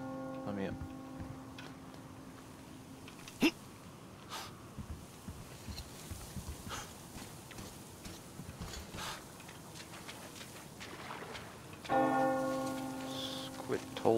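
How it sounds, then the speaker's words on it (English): A church bell rings in the video game Metro, a sustained tolling heard near the start and again toward the end, set against faint game ambience and scattered clatter. "Pulling that bell."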